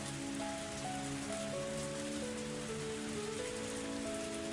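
Steady heavy downpour from the Higurashi visual novel game, a dense continuous hiss of rain falling throughout, with soft sustained music tones beneath it.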